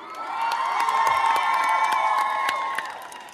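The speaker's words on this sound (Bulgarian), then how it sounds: "Моля за вашите бурни аплодисменти." A crowd in a hall applauds and cheers loudly and steadily for about three seconds, with whoops and scattered children's shouts, swelling quickly and then tapering off at the end.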